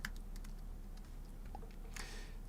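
Typing on a computer keyboard, a faint, quick patter of key clicks in several short bursts over a low background hum, with a slightly louder flurry near the end.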